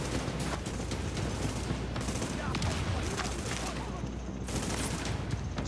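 Sniper and rifle fire in The Division crack in a dense, continuous barrage of overlapping shots, loud and close, with a voice faintly underneath.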